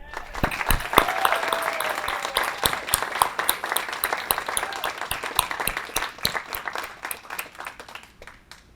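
An audience at a VA Northeast Ohio Healthcare System quarterly awards ceremony applauds an award recipient, sustained clapping from a crowd for several seconds that gradually thins out toward the end, with a voice briefly audible underneath.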